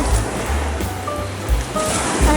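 Sea waves wash loudly at the seaside, a close, continuous roar of surf with gusty swells and low rumbling, no speech over it.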